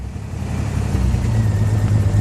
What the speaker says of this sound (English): And it's misfiring. You can hear that.